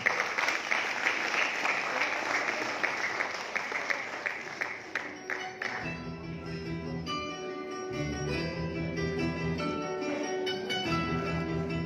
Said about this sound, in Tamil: இப்போது நாம் ஒரு பலத்த கரகோஷத்தோடு அவர்களை நாம் அழைப்போம்